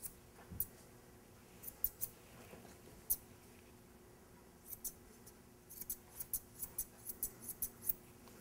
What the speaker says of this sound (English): So I'm going to just cut this line straight in up over the top of her ear